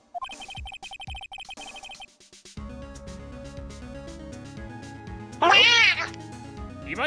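A cat meows in the Phoenix Wright: Ace Attorney video game, a short bright cry standing out over game music and voice chatter near the end.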